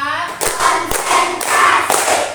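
Classroom of pupils doing a counting clap game, with bursts of group hand clapping roughly every half second, fairly loud and near, with voices chanting between the claps.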